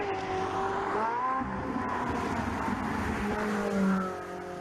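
A Ferrari 458 Italia with a 4.5-litre V8 and triple exhaust drives and accelerates, its engine note climbing and shifting steadily, loud and close throughout with a brief swell near the end.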